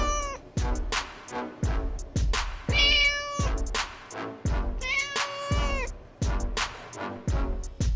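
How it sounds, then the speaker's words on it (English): A Persian cat meows repeatedly, close and clear, a run of short plaintive calls with a few longer, drawn-out cries mixed in, each separated by brief pauses. "Persian Cat."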